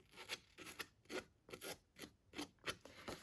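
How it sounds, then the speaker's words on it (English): Scissors rasp repeatedly along card-making paper panel edges in quick, rhythmic strokes, about a dozen short scraping passes, close and fairly quiet. "I will be roughing these two edges as well with my pair of scissors"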